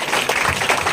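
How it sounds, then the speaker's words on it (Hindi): Loud congregational clapping at a Sunday church service fills a brief burst of dense, close applause from many hands. "जोरदार ताली बजाएं परमेश्वर की महिमा के लिए"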